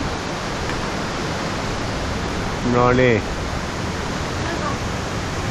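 Strong wind roars steadily through tall forest trees, a loud continuous rush with a brief spoken phrase partway through.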